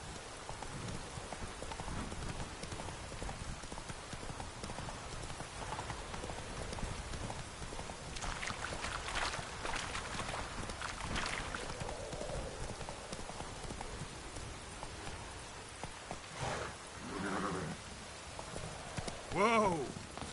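Roach the horse galloping in The Witcher game, hoof clip-clops under steady rain with distant rumbling, fairly faint amid the storm, ending in a short vocal outburst.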